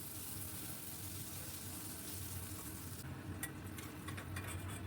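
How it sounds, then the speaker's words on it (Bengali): Potato pieces fry in hot oil in a pan, giving a steady, close hiss and crackle that thins out partway through as stirring sounds come in. "বেশ লাল লাল করে ভেজে আমি এবার আলুগুলোকে তুলে নিলাম।"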